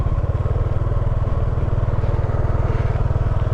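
A motorcycle engine running on a muddy road, a close, steady rapid thumping putter with even pulses throughout and no talk over it.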